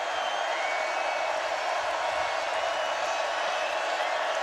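A football stadium crowd at a 2012 Baylor vs Oklahoma State game roars in a dense, steady wash of cheering that holds at a constant loud level throughout.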